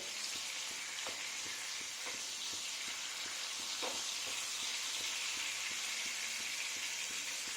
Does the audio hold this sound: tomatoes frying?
yes